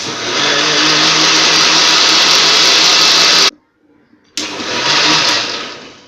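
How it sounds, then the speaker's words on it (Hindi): A kitchen mixer grinder grinding cream whirs loudly and steadily, stops abruptly for about a second, then runs again before winding down. "ये हमने मिक्सर पर लगा लिया है जार। अब इसको हम ग्राइंड करेंगे।"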